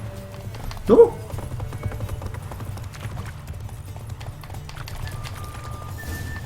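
Horse hooves clip-clopping at a steady gallop in The Witcher 3, with a loud vocal exclamation near the start and a faint musical tone later.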